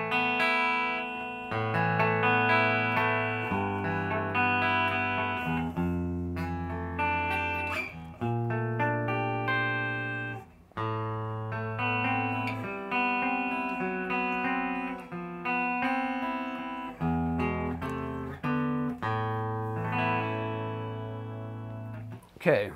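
A 2019 Rickenbacker 360 Fireglo electric guitar on its bridge pickup plays a sequence of clean chords and notes with effects, ringing and sustaining clearly, loud and up close.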